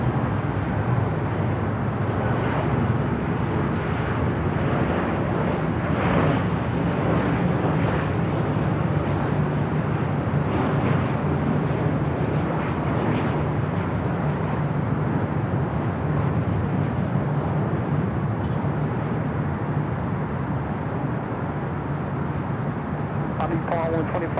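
A heavy airliner bound for Tokyo Haneda takes off at LAX, its jet engines a loud, sustained rumbling roar that fills the whole span without letup.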